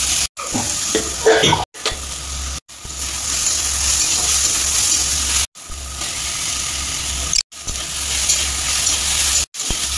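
Onion, tomato and potato fry and get stirred in a kadai, a steady loud sizzle with scraping broken by several short silent gaps.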